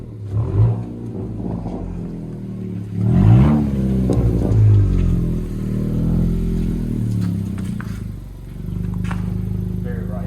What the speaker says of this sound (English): this is what a muffler delete SI sounds like